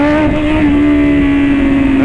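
BMW S1000 motorcycle engine holding a loud, steady high rev with a strong sustained droning tone and slight pitch rise, close and continuous for about two seconds; distinct exhaust pops are not clearly separated.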